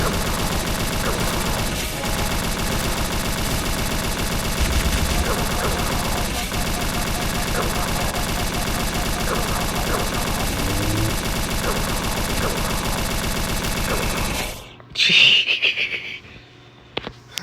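Sustained, loud game gunfire fills a Halo Firefight round against the Flood, a dense continuous barrage with speech mixed in, cutting out abruptly near the end before a brief final burst.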